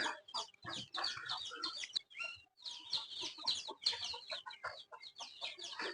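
A small flock of young chickens clucks and cheeps close by in a dense, overlapping chatter with a few short pauses.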